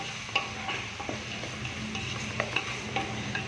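Chopped onions sizzle steadily in a pan for mutton biryani while a spoon stirs them, making occasional sharp scraping ticks over the continuous frying hiss.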